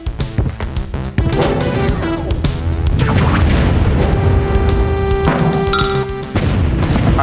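Repeated booming missile explosions and crashing impacts in the Rise of the Triad shooter, loud and dense over a continuous roar of game music and effects, with no talking.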